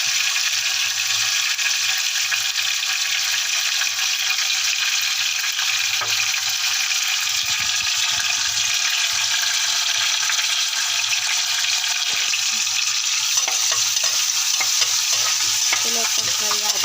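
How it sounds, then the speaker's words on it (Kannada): Onions frying in a pan until brown for mint rice, a loud steady sizzle with intermittent stirring scrapes and clinks of a utensil against the pan. "ಉಳ್ಳಾಗಡ್ಡಿ, ಚಲೋ ಹೊತ್ತಂಗೆ ಬ್ರೌನ್ ಕಲರ್ ಆಗೋ ಮಟ್ಟ ಫ್ರೈ ಮಾಡಬೇಕು."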